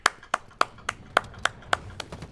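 Hands clap in a steady, evenly spaced rhythm of sharp, close slaps at a game between Bankers and Broncos, with a faint hum in the background and no talking.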